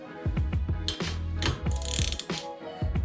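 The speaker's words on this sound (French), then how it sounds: "Donc je reprends ma douille de 13." A ratchet wrench with a 13 mm socket tightens nuts near the windshield bay of a Chrysler Crossfire, producing sharp rapid clicking bursts in several short strokes, close and loud.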